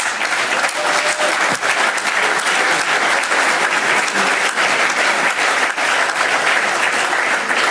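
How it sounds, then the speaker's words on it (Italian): A large audience claps warmly for the future food leaders, a dense, steady wall of applause that holds at full strength without pause and carries no voices. "ha chiesto di dare un caloroso applauso di benvenuto ai future food"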